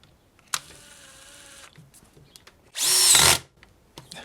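Bosch cordless drill set to screwdriver mode, speed 2, clutch at 15, driving a screw into wood: a sharp click, then a steady whirring motor hum, and later a louder, strained whine burst. Close and alone, no talking.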